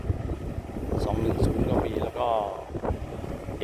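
A farm tractor engine rumbles steadily in the distance near an excavator site, heavily buffeted by outdoor wind noise on the microphone.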